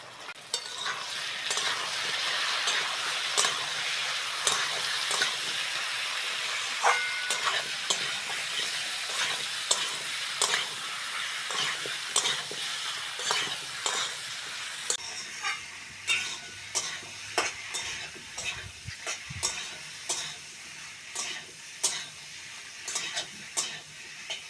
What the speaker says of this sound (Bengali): মশলাগুলো ভালো করে কষে নিয়েছি।